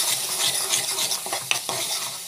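Tomato thokku sautéing with salt in a pan, a broad steady sizzle of frying with a utensil stirring and scraping through it, a couple of sharper clinks of metal against the pan near the end, no talking.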